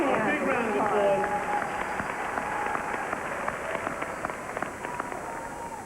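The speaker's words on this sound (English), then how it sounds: "give those competitors a big hand. A big round of applause" Audience at the 1991 Ms. Olympia bodybuilding contest applauding, a broad wash of clapping that swells early then thins, mixed with crowd noise and a loudspeaker voice over it.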